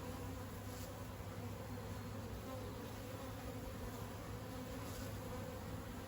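Honey bees hum in a dense, steady drone at close range while a hive is opened and inspected, the buzzing continuous and unbroken throughout with no talking.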